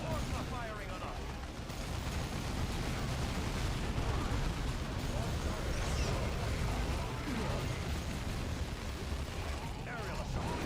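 Continuous rumbling battle din of gunfire and artillery in the strategy game Dawn of War 2, a dense, steady wash of distant blasts and shots across the whole stretch.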